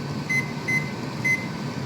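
Kitchen timer set to 12 minutes while cooking, three short electronic beeps over a steady hum of kitchen background noise.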